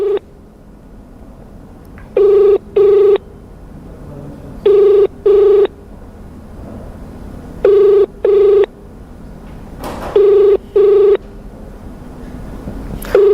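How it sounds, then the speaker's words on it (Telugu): A telephone rings while dialing a toll-free number: loud, clear double rings repeat four times at even intervals over a faint hiss, with no voices. "ఇంకో టోల్ ఫ్రీ నెంబర్ ఉంది, నేను కాల్ చేస్తున్నాను లైవ్లో."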